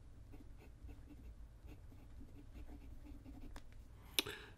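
A Pelikan M200 fountain pen with a broad nib scratches faintly across smooth Rhodia paper in quiet, irregular strokes, with one sharp click near the end.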